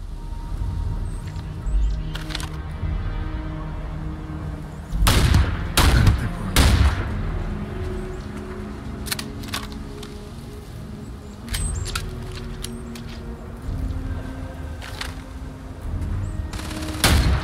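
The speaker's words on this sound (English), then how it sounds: "maybe we want to be the ones doing the shooting" Gunfire in the video game Starfield: repeated loud, sharp shots and bursts of weapon fire at irregular intervals over a continuous background of game ambience.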